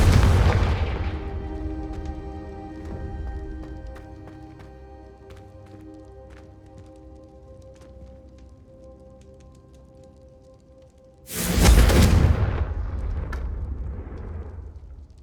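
Confringo, an explosive spell in Hogwarts Legacy, goes off twice: a loud blast that rings out over a lingering tonal hum, then a second sharp, booming burst that decays in a rumbling tail.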